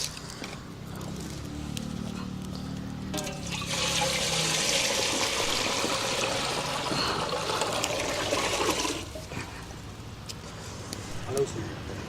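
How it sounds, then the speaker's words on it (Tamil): Water pours into a cooking pot on a lit stove in a steady rushing stream for several seconds, then tapers off to trickles, with a voice talking in the background. "இப்போ தண்ணி ஊற்றலாம்"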